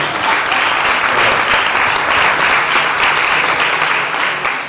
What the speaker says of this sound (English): one more time, a round of applause for Mr. Buku.